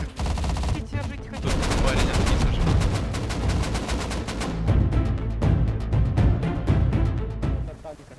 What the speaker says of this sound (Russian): Были взрывы, вы слышали?